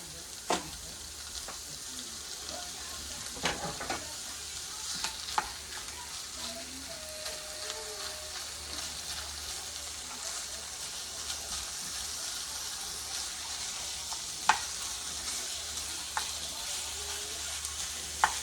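Hamburger meat frying in a pan while being stirred, a soft continuous sizzle with occasional faint scrapes and taps, quiet and steady with no talking.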